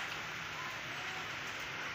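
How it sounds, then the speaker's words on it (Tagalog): Rain falls steadily outdoors at a window grill installation site, a dense, even hiss of drops without breaks throughout, fairly quiet and continuous. "Umuulan kasi guys."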